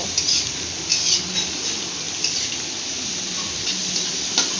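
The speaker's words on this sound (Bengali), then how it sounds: "এবারে আমি পেঁয়াজগুলোকে লাল লাল করে ভেজে নেব।" Chopped onions fry in oil in a kadai over a low flame, a steady close sizzle with occasional soft stirring clinks, and no voices.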